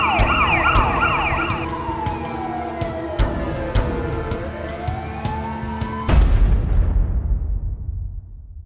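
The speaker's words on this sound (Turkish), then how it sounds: "Evet ambulans geldi. Ambulans gidiyor Ayaz." A loud wailing ambulance siren sweeps up and down continuously, then cuts off abruptly with a thump, leaving fading background rumble.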